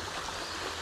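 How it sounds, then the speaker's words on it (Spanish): Water runs along an irrigation channel (acequia) beside a trail, a continuous close rushing and trickling wash with no voices. "aquí tenemos las acequias"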